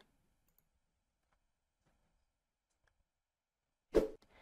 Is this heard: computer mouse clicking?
yes